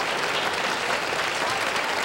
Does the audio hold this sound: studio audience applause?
yes